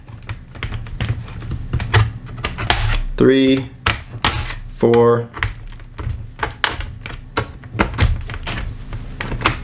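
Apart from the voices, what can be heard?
prying up laptop keyboard snaps with metal pry tool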